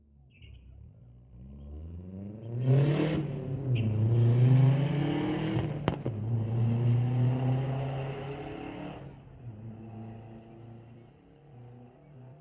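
Street-legal drag racing cars at Mission Raceway Park roar loudly for several seconds, engine note climbing through gears as they launch and pass, then fading into a lower rumble.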